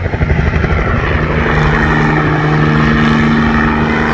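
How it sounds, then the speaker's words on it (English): A crop-dusting helicopter spraying fields, its rotor chopping steadily overhead, loud and close, its engine droning with a constant low hum throughout. "spraying the fields with a helicopter"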